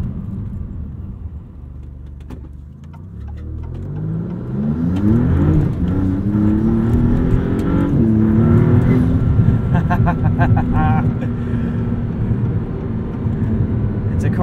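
On a canyon road, a 2023 Maserati MC20 engine starts at a subdued idle-like hum, then climbs in pitch as the car accelerates through gears and settles into a loud, sustained cabin drone.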